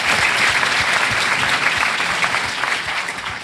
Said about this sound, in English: let him have the applause